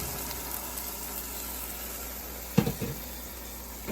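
Blended tomatoes and peppers for Ghanaian jollof sizzle quietly in a hot pot, a steady soft frying hiss broken by a brief cluster of sharp clatters near the end.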